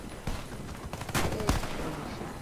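Several sharp pistol shots crack out in a quick irregular volley in the game Warface, loud and close, with a steady rumble of game ambience and faint talk underneath.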